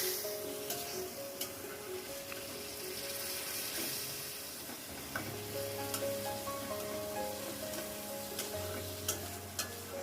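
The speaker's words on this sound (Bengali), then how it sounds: "এখন আমি ভালো করে কষিয়ে নেব।" Onion and green chili paste is sautéed in a pan, a close steady sizzle with scraping stirs and occasional clinks, no voices.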